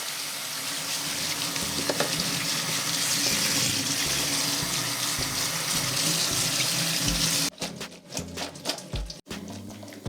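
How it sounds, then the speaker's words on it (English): Cold tap water pours steadily over drained fettuccine in a sink, a close, even rushing hiss that breaks off into uneven splashes and trickles near the end. "You need to open cold water a little bit."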